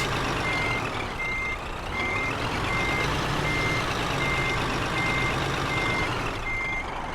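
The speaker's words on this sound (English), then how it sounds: "It's almost harder to back this trailer up into an empty loading bay like this, where you don't have other trailers as guides." Reversing beeps from a truck backing a trailer into an empty loading bay in Euro Truck Simulator 2, a steady train of evenly spaced tones over a constant engine rumble, loud and with no talk.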